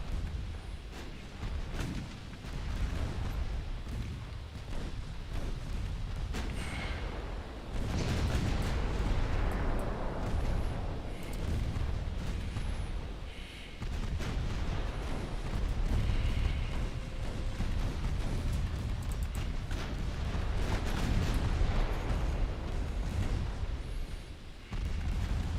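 Naval gunfire from warship main guns in the naval combat game Ultimate Admiral Dreadnoughts: dense, loud, continuous booming with repeated heavy bursts and rumbling blasts throughout, no voices.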